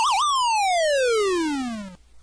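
A single descending synthesized tone from the NES boxing game Mike Tyson's Punch-Out, starting with a brief warble and then gliding smoothly downward for about two seconds before cutting off, loud and alone.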